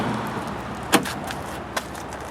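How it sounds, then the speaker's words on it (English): Door of a 1988 Buick Reatta opening, giving a sharp latch click followed by a softer second click, near and alone over steady background hiss. "when you open the door here"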